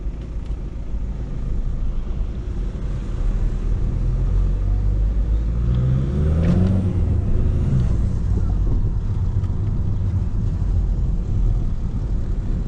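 A 2006 Audi A3 8P with a standard 2.0 TDI diesel drives along, heard from inside the cabin as a steady, low engine and road rumble that holds constant throughout.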